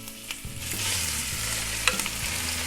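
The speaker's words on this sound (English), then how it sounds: "you're going to hear a sizzle" Chopped onions hit hot oil in a pan and sizzle steadily, a close, continuous frying crackle with a few stirring bumps and scrapes underneath.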